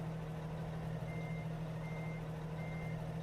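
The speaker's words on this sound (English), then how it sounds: "I know I'm outside the truck when I'm backing" Steady, evenly spaced reversing beeps from a truck backing up in American Truck Simulator, faint over a constant low engine drone.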